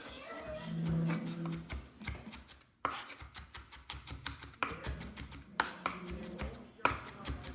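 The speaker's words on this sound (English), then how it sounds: "Let's start off by mincing some garlic." Garlic minced with a knife on a cutting board, rapid close chopping taps in bursts with short pauses, a voice briefly heard near the start.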